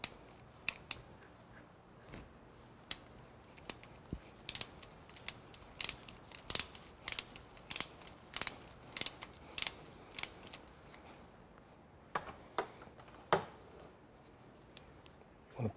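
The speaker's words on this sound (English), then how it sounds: "We'll pull the crankcase drain plug." A 15mm socket works loose the crankcase drain plug on a Porsche 996 Turbo, giving a series of sharp, close metallic clicks and ratchet ticks spaced irregularly over quiet garage background.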